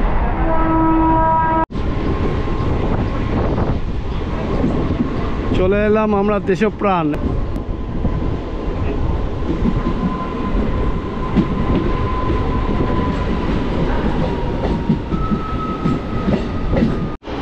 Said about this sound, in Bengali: ট্রেন বেশ ভালোই চলছে